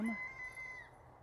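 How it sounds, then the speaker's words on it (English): A young bantam rooster, hatched in autumn, gives a single crow near a smithy, a strained, high-pitched call that holds steady for most of a second before breaking off into quiet background. "That's one of my new bantam roosters."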